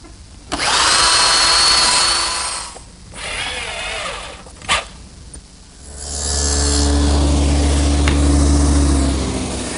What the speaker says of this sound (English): When I pre-drill the holes for the screws which will hold the top on